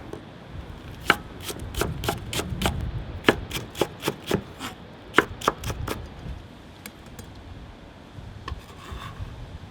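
A knife chops a vegetable on a cutting board for spicy Korean fish stew, with a quick run of crisp, rhythmic knocks in three bursts, close and clear, then a quieter pause.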